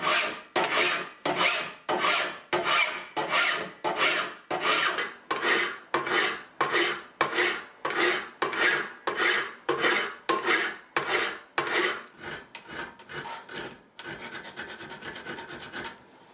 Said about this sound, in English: And then I'm gonna do the curve with a round file.